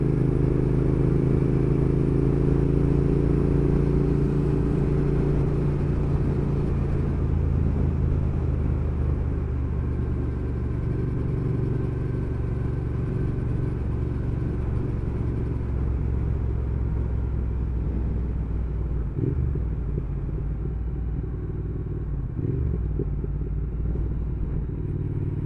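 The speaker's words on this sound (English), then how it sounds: "it's definitely got a lovely burble to it" Triumph Thruxton R motorcycle engine burbling at steady idle or low revs, a deep continuous rumble with a slight dip near the end, close and alone with no talking.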